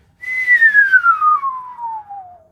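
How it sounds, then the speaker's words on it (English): A whistle confined inside a tube gives a single clear, quantized tone that glides steadily downward for about two seconds, with nothing else heard. "so confine the whistle to the tube and it's quantized"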